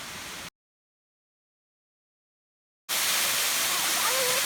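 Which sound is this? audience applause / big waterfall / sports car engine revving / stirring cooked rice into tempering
big waterfall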